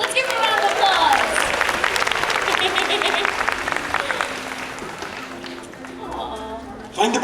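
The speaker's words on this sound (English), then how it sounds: "Let's give him a round of applause." An audience at a live bird show at Disney's Animal Kingdom applauds after a trumpeter hornbill's appearance, steady clapping running under a presenter's amplified talk.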